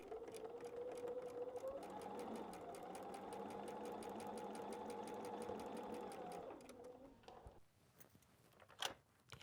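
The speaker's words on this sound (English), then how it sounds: "Let's go sew our 1/4 inch." Sewing machine running steadily for about six seconds as it stitches a quarter-inch seam through patchwork cotton fabric, a close continuous whirring hum that stops near the end and is followed by faint handling noises.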